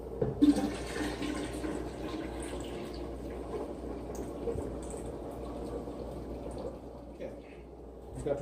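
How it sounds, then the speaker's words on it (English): Water runs steadily into containers of sugar tea for kombucha, a continuous gurgling pour with small splashes and drips throughout. "I add water to fill up to the line I want to stop at."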